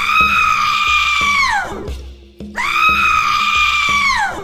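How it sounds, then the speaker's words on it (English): A woman screams in a dramatized birth scene: two long, loud, piercing harmonic cries, each holding steady before dropping off, separated by a short pause with low background noise. "She screamed again."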